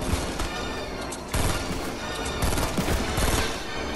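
Video game gunfire rattles in dense, loud bursts of rapid shots and fusillades, with crashes mixed in and a brief lull before the firing resumes.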